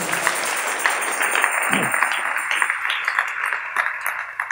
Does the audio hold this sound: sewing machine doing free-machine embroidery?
no